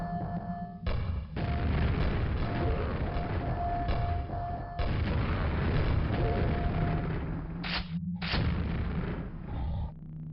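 Grenade explosions and heavy weapon fire in the first-person shooter Quake, a sustained loud roar of booming blasts with abrupt cuts and brief tonal game sounds, dense and continuous.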